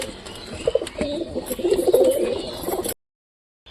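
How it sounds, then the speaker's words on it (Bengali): Pigeons coo low and soft at a home loft as they start feeding, with faint chirps over a steady background before the sound cuts out near the end. "এই দেখো এর মধ্যে খাওয়া শুরু করেছে কবুতরগুলো আমার"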